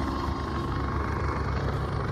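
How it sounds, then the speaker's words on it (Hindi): An army helicopter flies nearby in the mountains, a loud, steady rotor and engine roar that holds constant without a break. "सो इथं आर्मीचं पण हेलिकॉप्टर आहे, हेलिकॉप्टर आहे इथं"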